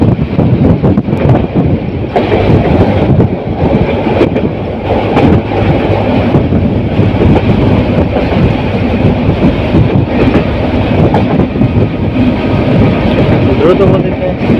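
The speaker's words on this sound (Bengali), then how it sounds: "দেওয়ানগঞ্জ কমিউটার, যেটি ঢাকা থেকে ছেড়ে আসছে দেওয়ানগঞ্জের উদ্দেশ্যে।" The Dewanganj Commuter train rushes past a station at speed in Bangladesh, a loud, continuous roar with rhythmic wheel clatter and heavy wind buffeting on the microphone, while a voice talks over it.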